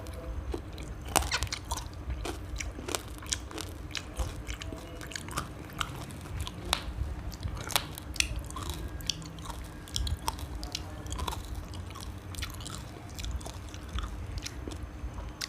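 Crispy fried pork is bitten and chewed close to the mic, with repeated sharp crunches and wet chewing sounds in an irregular rhythm that runs steadily throughout.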